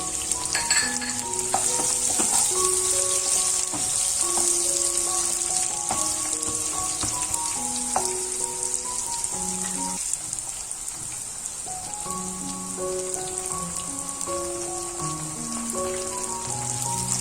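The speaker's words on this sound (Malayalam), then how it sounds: "എണ്ണ ചൂടായതിനു ശേഷം നമുക്ക് അതിലോട്ട് സവാള ചേർത്ത് കൊടുക്കാം" Sliced onions and curry leaves frying in hot oil for spicy Indian-style pasta, giving a steady, dense sizzle that runs the whole time with faint stirring clinks and soft background music.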